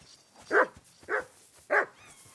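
A dog in Kingdom Come: Deliverance 2 gives three short, separate barks close by, the last trailing into a faint thin whimper.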